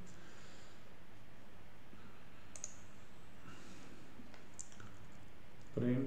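A few faint, sparse clicks from a computer keyboard as keys are pressed during a programming lesson, with a slightly firmer tap near the end over a quiet room background.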